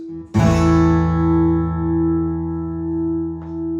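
A single strummed guitar chord, an A with a D bass, rings out and slowly decays, its low bass note clashing against the upper strings in a sour, unsettled sound.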